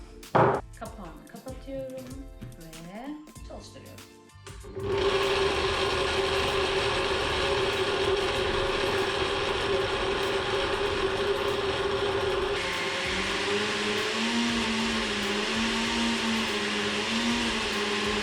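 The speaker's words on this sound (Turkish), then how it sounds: "Mikserden iyice geçirdim." A blender roars steadily after a few seconds of clattering and setup noises, whirring loud and close for a long stretch while mixing almond milk, with a slight change in pitch partway.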